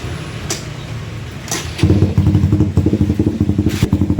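A motorcycle engine starts after a battery repair for a drained battery: a few faint clicks, then the engine catches at about two seconds and settles into a loud, steady, close idle with a rapid pulsing rhythm.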